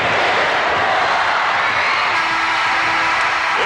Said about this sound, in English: Layup is good, and the crowd starts to count it.